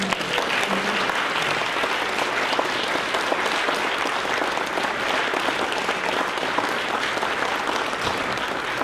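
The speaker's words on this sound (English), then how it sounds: "Let us give an applause to Mr. Antonio Giuliani" An awards ceremony audience claps steadily and loudly for the whole stretch, a dense, even wash of applause with no one speaking.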